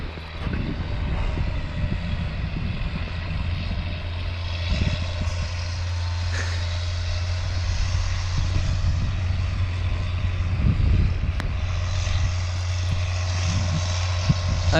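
A tractor engine drones steadily nearby as it pulls a plough around a field on a Western Australian sheep farm, a continuous low rumble with wind noise and faint bumps over the top.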